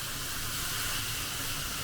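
Sake steams yakisoba noodles in a hot pan while making Osaka-style okonomiyaki, giving a steady, even hiss that holds at one level for the whole stretch, with no talking.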